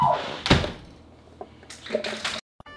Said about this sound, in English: Beating on my door like the damn police.